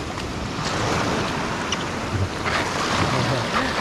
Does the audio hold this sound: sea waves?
yes